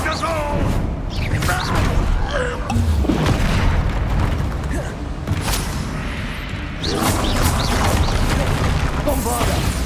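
Spell explosions in the Hogwarts Legacy video game, with Bombarda and Confringo booms and crashes going off continuously among dense, loud battle noise. Voices shout over the barrage.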